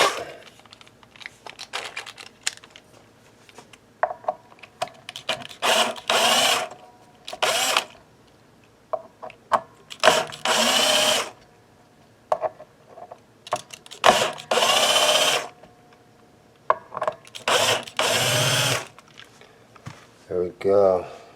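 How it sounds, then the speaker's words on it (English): An electric drill backing out the neck screws of a Made in Japan Fender Stratocaster with a 1962 reissue neck, laid flat; short, loud whirring bursts come and go, with a person talking between them. "And with my drill."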